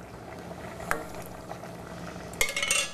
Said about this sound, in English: I'm gonna add my last ladle of stock, but in this instance, I'm gonna use some porcini